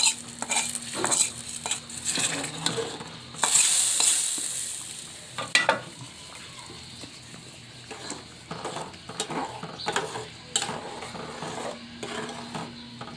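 Tempered hog plums go into simmering masoor lentil dal, a sizzling hiss followed by repeated spoon scrapes and clinks against the pot, close and moderately loud with no talk.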